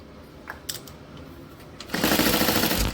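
A sewing machine topstitches across the top of an Elina project with an eighth-inch seam allowance, starting as a loud, steady burst of rapid stitching that runs for about a second after light handling noises.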